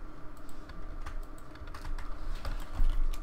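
Computer keyboard clattering during a Minecraft session, rapid close keystrokes in uneven bursts over a faint background hum.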